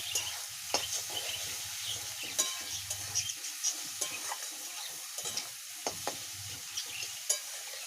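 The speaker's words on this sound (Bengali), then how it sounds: "এর সঙ্গে ভেজে নেব।" Chopped tomato frying in a pan for a duck egg curry, a steady close sizzle with repeated scraping stir strokes and clinks of a spatula against the pan.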